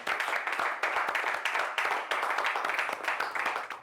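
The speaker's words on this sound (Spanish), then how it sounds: "Un gran aplauso para ustedes y por este gran trabajo que han realizado." A crowd applauds orchestra students after their performance: steady, dense clapping that fills the whole stretch at a moderate, even level, with no talk over it.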